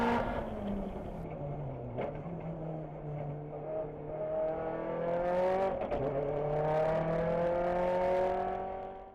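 A car accelerates on the M1 Concourse race track, with engine drone dipping, then climbing in pitch as the throttle opens and revs build steadily toward the end, heard from inside, with a few brief clunks along the way.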